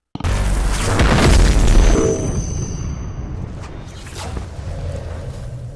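Godzilla's atomic breath detonates in an animated film: a sudden massive boom with a roaring blast that rumbles for about two seconds, then settles into a lingering, fading roar and hiss.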